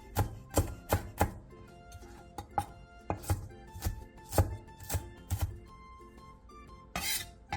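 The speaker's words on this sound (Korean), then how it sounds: "대파의 초록 부분 조금을 쫑쫑 썰어주세요." A knife chops the green part of a green onion (daepa) on a cutting board, a run of crisp, close, regular thuds, some fast and doubled, pausing briefly before a final scrape, with no talking.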